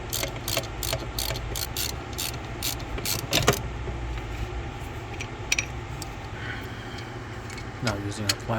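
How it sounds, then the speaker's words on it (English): A hand ratchet loosens bolts on the thermostat housing of a Ram 1500 5.7L Hemi, giving a quick run of sharp, close clicks over a low hum, then quieter scattered mechanical taps. "Now I'm gonna remove the 213mm bolts on the thermostat housing."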